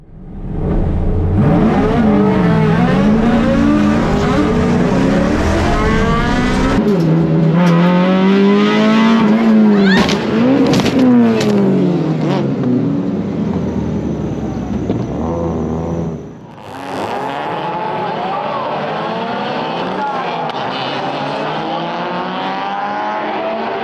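Race cars at a Baskerville circuit race start, including a Subaru Impreza and a Mitsubishi Mirage, roar and rev loudly with shifting engine pitches, followed by an abrupt dip and crash-like clatter before engines continue droning.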